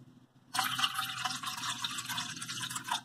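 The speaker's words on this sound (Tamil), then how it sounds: "இது கூட ஒரு டம்ளர் தண்ணி சேர்த்துக்கோங்க." A tumbler of water pours into freshly strained amla juice in a home kitchen, a steady close splashing fill starting abruptly and continuing for a few seconds, no voices.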